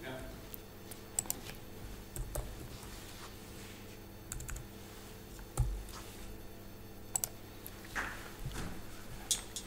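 Keys tapped on a computer keyboard while entering a short name into accounting software, scattered light clicks in small bursts over steady background hum, with someone talking over them.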